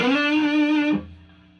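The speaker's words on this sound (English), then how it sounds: "add a little bit of distortion" A single sustained guitar note through a distortion pedal, buzzy and overdriven, rings for about a second, then cuts off abruptly into a faint low tail.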